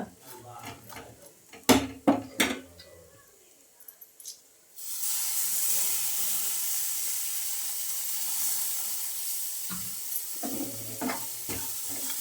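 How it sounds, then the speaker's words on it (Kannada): Dry fish fries in a pan with a steady, bright sizzle and hiss that runs for several seconds. Before and after it come scraping and stirring knocks, and a voice talks briefly. "ಸ್ವಲ್ಪ ಫ್ರೈ ಆಗಲಿ"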